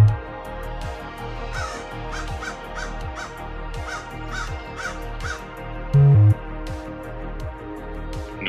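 A raven caws repeatedly in an even, rhythmic series of harsh calls, loud and close, over a steady tonal background with no voices.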